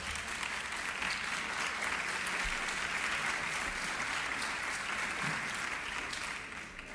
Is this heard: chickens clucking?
no